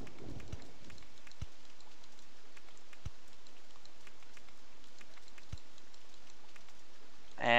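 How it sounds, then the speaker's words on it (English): Rain falling in the Roller Coaster Tycoon 2 video game makes a soft, even hiss with a few sharp isolated drop clicks scattered through it, steady and fairly quiet throughout. "now it's raining"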